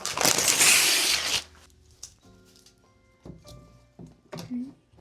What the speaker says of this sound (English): unwrap my present.